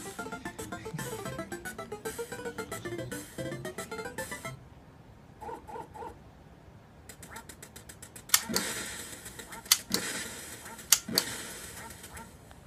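Several cartoonish duck quacks from the Duck Hunt video game, loud and close, come in short bursts among the game's music, electronic shots and clicks, with no talking.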